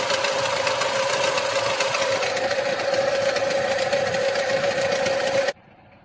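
Lada Niva engine idling with a rapid, even knocking tick over a steady mid-pitched hum, close and continuous until it cuts off abruptly near the end.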